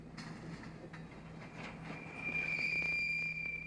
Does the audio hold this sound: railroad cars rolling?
yes